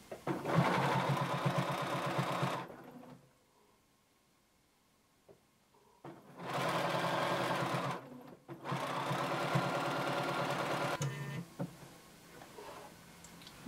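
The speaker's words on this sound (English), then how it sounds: "You want to sew all the way around, keeping your fabric aligned at the half inch mark." A sewing machine stitching a fabric band for a workout top runs in steady bursts of rapid mechanical whirring, pausing in near silence between runs, then starting again for two longer stretches.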